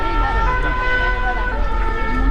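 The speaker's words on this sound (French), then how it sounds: "comme on peut le voir, les pompiers arrivent" Fire engines arriving at the Avallon fire station with sirens wailing, a loud, steady two-tone siren sustained throughout over engine noise.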